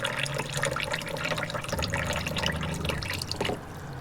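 Water runs from a camper van tap into a cup, a steady splashing stream with a faint low hum, easing off near the end.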